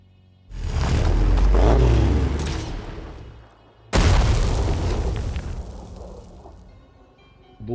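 Two heavy grenade blasts in a sci-fi combat video game, each a loud, booming burst with a long rumbling tail, the second striking sharply as the first fades.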